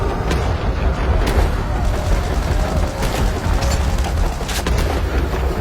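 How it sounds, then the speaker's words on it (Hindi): Explosion effects in an animated story, a dense sustained roar of blasts and rumbling booms with scattered sharp cracks, loud and continuous throughout. "और तभी अचानक एक और विस्फोट होता है।"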